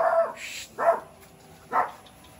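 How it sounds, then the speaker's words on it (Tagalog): A farm dog barks three times, loud and close, with short pauses between the sharp yelps and quiet in the gaps. "Ngayon tumatahol na siya."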